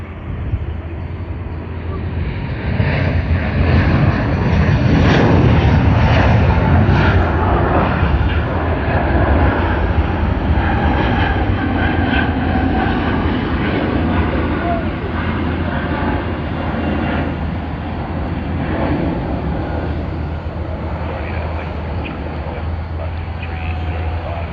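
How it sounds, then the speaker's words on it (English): A LATAM airliner, flight LA810 bound for Santiago, Chile, rolls down the runway for takeoff at Sydney Airport, a broad steady jet roar swelling early and holding loud throughout, with voices talking over it. "LA810 to Santiago, Chile. It has begun its takeoff roll."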